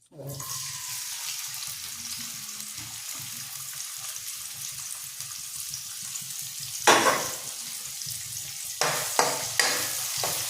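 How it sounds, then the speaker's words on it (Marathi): Chopped onion hits hot oil in a pan for a Konkani clam dish, starting with a loud burst of sizzling that settles into a steady, close frying hiss, with a few stirring scrapes near the end. "थोडासा कांदा टाकू भाजले तेल तापलंय का तापलेलं आहे"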